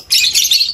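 African lovebirds let out a dense burst of shrill, high-pitched chirps, close and loud, lasting under a second with no talking.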